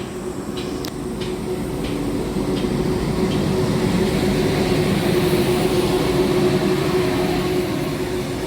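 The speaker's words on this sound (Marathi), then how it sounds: "तर या ठिकाणी ट्रेन जात आहे" A loaded coal freight train on the Gondia–Kolhapur line rolls past with a continuous, loud, close rumble and a sustained droning hum that holds steady throughout with no talk.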